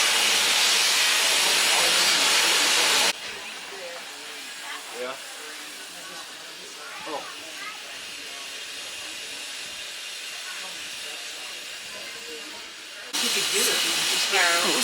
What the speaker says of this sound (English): Little steam train.